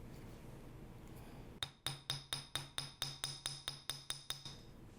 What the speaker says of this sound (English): I'm going to show you the difference between a flattened one and a regular one